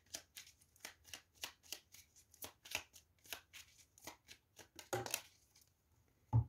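Oracle cards are shuffled and drawn by hand: a rapid run of crisp, close card flicks and riffles, then a few louder slaps as cards are pulled and set down near the end.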